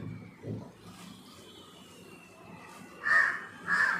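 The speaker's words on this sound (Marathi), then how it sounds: "माझे भरपूरसे व्हिडिओमध्ये कावळ्यांचा आवाज आहे." After a few seconds of quiet ambience, a crow gives two loud, harsh caws near the end, spaced about half a second apart.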